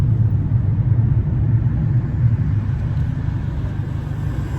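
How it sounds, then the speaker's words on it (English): Road traffic rolls past nearby as a steady low rumble of car engines and tyres, loud and continuous with gentle swells and no talk over it. "So we're going to have to just let traffic go through first, and then we can get back in traffic."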